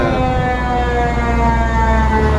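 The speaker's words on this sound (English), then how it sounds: "You hear that siren over there?" A loud, sustained wailing fire truck siren with a strong steady tone, close and continuous throughout, on Music Row in Nashville, Tennessee.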